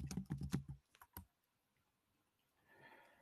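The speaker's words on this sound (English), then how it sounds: "Somebody typing." Quick burst of keystrokes on a computer keyboard, a dense run of clicks followed by a few isolated taps, then near silence with faint room noise.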